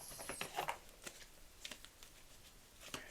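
Tarot confirmation cards are shuffled in soft, quick riffling bursts with light papery flicks and taps, faint and close with no voice.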